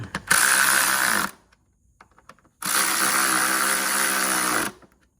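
A power tool tightens bolts on a Kioti DK5310 tractor in two loud, steady mechanical whirring bursts of about a second and two seconds, separated by a short pause with faint clicks.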